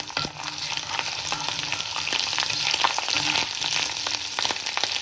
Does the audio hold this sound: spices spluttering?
yes